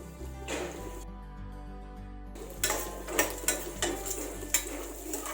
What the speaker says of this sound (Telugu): అలాగే ఒక కప్పు కాజు, జీడిపప్పు వేసుకొని వీటిని ఒకసారి బాగా కలుపుకోవాలి.